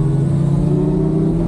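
Steady, loud engine drone from a Kawasaki Ninja 1100 SX SE motorcycle pulling hard under throttle in sixth gear, a continuous close rumble with no talk over it.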